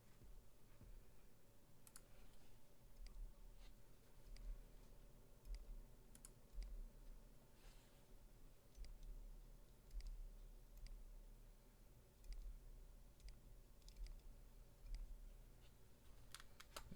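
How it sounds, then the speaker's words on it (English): Mechanical keyboard switches clicking in a keyboard tester during a Tex Shinobi keyboard build, faint scattered individual clicks at an irregular pace over a steady low hum. "I like to hear the keyboard tester sound that it makes when the switch is working."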